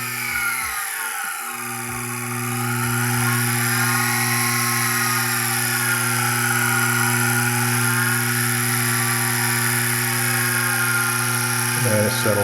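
An Accu-Pro VMC mill spindle spins up to 2000 RPM, giving a steady, loud mechanical whine with sustained tonal hum that rises briefly and then settles into an even drone, with a few light knocks at the start and end.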